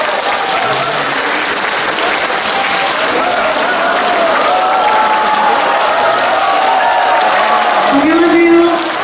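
Loud, steady applause from a crowd at a volunteer day celebration in Gapyeong, Gyeonggi Province, greeting a young trot singer; dense clapping carries on throughout, with voices rising above it near the end.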